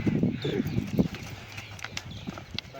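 Horse hooves clip-clop softly on the ground in an irregular walking rhythm, faint and a little distant, with light outdoor background noise and no talking.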